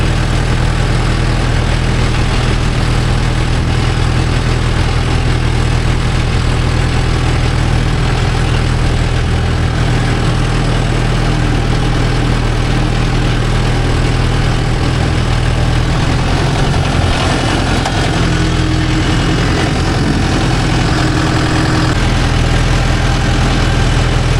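A Mahindra Yuvo Tech Plus 585 4WD tractor pulling a 9-tine cultivator in a field, its diesel engine running loud and steady at close range, a constant low rumble throughout with no talking.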